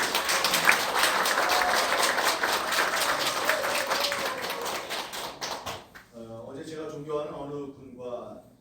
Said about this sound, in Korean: 큰 박수와 축하드립니다